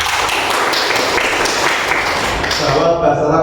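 An eighth-grade class of students claps hands together in a classroom, a steady wash of overlapping applause that tapers off toward the end.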